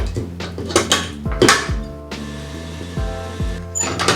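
Cookie dough with added vanilla being beaten by a mixer, with beaters knocking and clattering against the bowl in irregular bursts over a steady motor whine.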